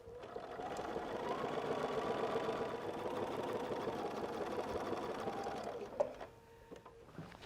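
A sewing machine runs steadily as it stitches through a quilt's seam allowance, a close, continuous mechanical whir for about six seconds before it stops, leaving a few faint handling clicks.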